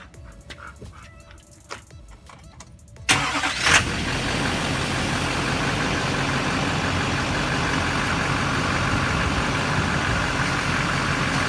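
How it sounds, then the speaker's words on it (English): A Duramax pickup truck engine cranks and fires after a quiet stretch of low rumble, then settles into a steady, loud diesel idle that runs on alone. "now we're going to start the truck"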